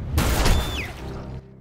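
Gunfire in the video game Detroit: Become Human, a loud burst of shots at the start that rings out and fades over a second and a half, with no talking.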